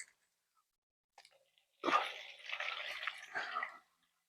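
Water pours into a container for a four-to-one water and distilled white vinegar mix meant to remove surface rust. A few faint taps come first, then a close, splashy pour of about two seconds that stops abruptly.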